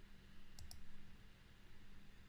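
A computer mouse clicks twice in quick succession on a category node in SellerSprite's Amazon category research software, the crisp clicks brief and close against a low steady hum.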